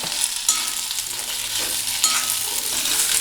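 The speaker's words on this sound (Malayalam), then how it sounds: "നന്നായി ഒന്ന് ഇളക്കി എല്ലാ ഭാഗത്തും ഉള്ളിയും കറിവേപ്പിലയും വറ്റൽമുളകും എത്തുന്നത് വരെ നന്നായി ഇളക്കി കൊടുക്കുക" Onion, curry leaves and dried red chillies are stirred in a hot pan for a Kerala-style kolukattai dish, giving a steady close sizzle with scraping stir strokes throughout and no talking.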